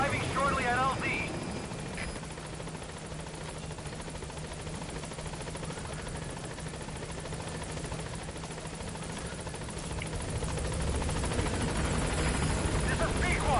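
The Pequod helicopter arrives in Metal Gear Solid V: The Phantom Pain, a steady rotor and engine drone beneath radio-style speech and game music, louder at the start and end.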